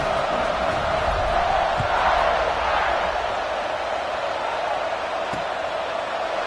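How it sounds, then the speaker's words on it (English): Stadium crowd in a college football video game, a steady loud roar of cheering that carries on without a break. "this crowd now ready to get behind them"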